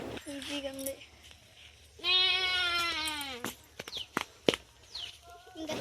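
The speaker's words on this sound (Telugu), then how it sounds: "ఇక్కడ వెళ్ళే కొన్ని మేకలు కూడా ఉన్నాయి." Goats bleat near a mango orchard, with a long, loud, wavering bleat in the middle and shorter calls before and after, while a person talks over parts of it and birds chirp faintly.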